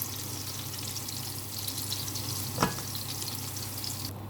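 Onions frying for an omelet, a steady close sizzle in a pan with one brief clink partway through, continuous and alone without talk.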